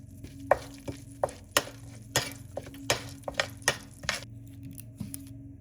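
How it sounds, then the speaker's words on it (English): Whole spices sautéing in oil and butter for palak paneer, with irregular scraping stirs and soft crackles over a low steady sizzle, close and fairly quiet, no talking. "Let them saute for 2 to 3 minutes until fragrant."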